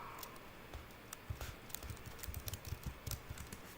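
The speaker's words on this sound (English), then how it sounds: "go to your command prompt and just type in ipconfig" Keys on a computer keyboard are tapped in quick irregular bursts of light clicks, faint and close, typing a command with short pauses between strokes.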